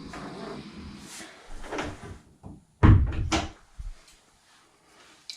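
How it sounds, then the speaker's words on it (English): A door swings shut with a solid thump and brief rattle, close by, after some quieter rustling and shuffling. "I gotta shut the door"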